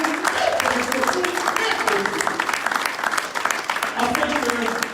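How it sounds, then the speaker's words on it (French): An audience at a French-language church sermon claps in a steady, moderately dense wash of applause lasting several seconds, with a voice audible over it. "Est-ce qu'il ne mérite pas même 5 secondes d'acclamation?"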